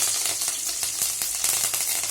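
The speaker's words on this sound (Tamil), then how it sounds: "கருவேப்பிலையும் நல்லா பொரியணும்." Mustard seeds and curry leaves splutter and crackle in hot oil for a tomato and coconut chutney, a steady loud sizzle broken by dense sharp pops throughout, with no talking.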